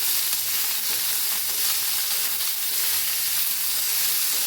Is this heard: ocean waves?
no